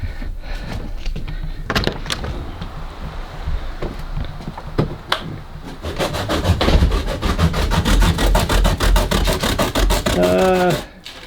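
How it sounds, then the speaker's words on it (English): Hand sanding on a cosplay helmet piece in a home workshop, fast steady rasping strokes up close and loud, speeding up into a dense scrubbing rhythm before stopping abruptly. "Sanding."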